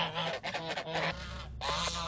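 Young geese honk repeatedly in loud, close, overlapping calls, a rapid burst of nasal honks with a brief pause before another cluster.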